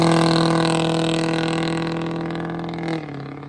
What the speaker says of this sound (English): This truck just sounds absolutely obnoxious.